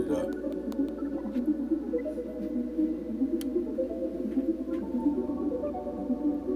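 Dry melody sample loop with no reverb effect applied, steady sustained tonal layers in the low-mid range with light transient ticks, moderately quiet and continuous without talk.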